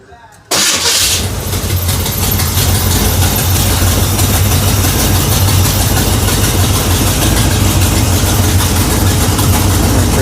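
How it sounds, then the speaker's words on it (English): A 1940 Plymouth PT-105 truck engine cranks and catches after a short quiet moment, then runs loud and steady with a deep rumbling idle that holds for the rest of the stretch. "So let's see if she fires up and runs good."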